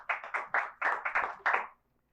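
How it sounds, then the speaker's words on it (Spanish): A church congregation claps in a short, quick run of about eight sharp, close hand claps that stop abruptly, leaving silence. "Dale un fuerte aplauso al Señor"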